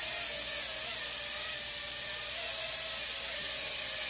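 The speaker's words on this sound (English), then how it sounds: "So I'm just flying it around trying to get this guy to reach its LVC, low voltage cutoff point, or warning." Loolinn X26 obstacle-avoidance drone flying nearby, a steady high-pitched whirring propeller whine that holds constant and fairly loud without pauses or talking.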